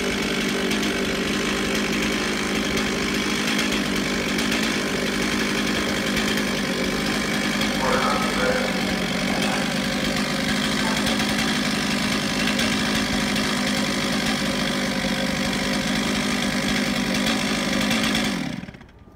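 A chainsaw engine idles steadily with a loud, buzzing drone for a long stretch, then cuts off abruptly at the end.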